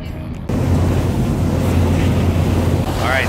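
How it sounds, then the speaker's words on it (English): A speedboat running across the sea near Koh Phi Phi, Thailand: after a brief quieter moment, a loud, steady roar of engine, rushing water and wind hitting the microphone fills the rest of the clip. "we're on the speedboat, the Princess. We're headed to Kho Phi Phi right now"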